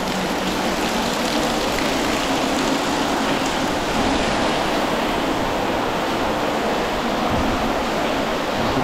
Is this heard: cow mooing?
no